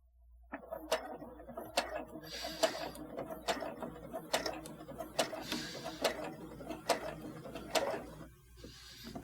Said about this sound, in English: we're going to stop right there and back stitch again.